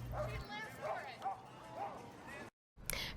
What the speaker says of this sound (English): the Pooch Plunge gave Lawrence dogs a chance to close out summer with plenty of energy